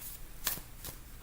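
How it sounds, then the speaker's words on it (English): A deck of oracle cards riffled by hand, two quick papery shuffling bursts spaced a moment apart, close and moderately loud with no talking. "I'm shuffling these cards"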